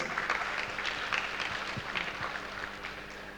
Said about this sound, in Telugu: ఆయనకు మరొకసారి గట్టి క్లాప్స్ కొడదాం ఫ్రెండ్స్